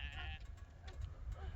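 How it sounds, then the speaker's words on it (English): Ewe lambs bleating as they head into the shearing shed, several overlapping calls at moderate distance with a low rumble underneath. "these are the ewe lambs heading in for shearing"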